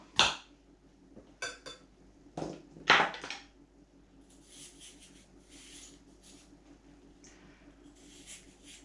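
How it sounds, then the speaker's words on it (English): A cucumber being peeled and chopped in a quiet kitchen: a few sharp, close knocks and scrapes of a knife on a board, followed by softer, scattered scraping strokes. "Then we peel and chop a cucumber."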